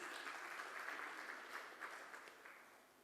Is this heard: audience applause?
yes